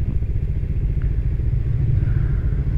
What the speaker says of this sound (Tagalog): So full throttle na lang ako.